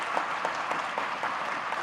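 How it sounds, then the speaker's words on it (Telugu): A crowd at a political rally claps together, producing a dense, steady patter of applause at moderate distance with no voices standing out. "మీరందరూ గట్టిగా చప్పట్లతో ఆమోదం తెలపండి"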